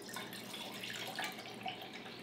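Water pours steadily into a Mountain House Chili Mac pouch, a soft continuous trickle with faint gurgles, quiet and with no talk.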